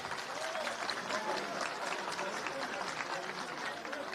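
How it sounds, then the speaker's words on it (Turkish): Steady applause from a large crowd at a Turkish political party leader's event at Bursa Metropolitan Municipality, a continuous wash of clapping with faint voices mixed in, slightly distant. "Alkışlarınıza hoş geldiniz diyoruz."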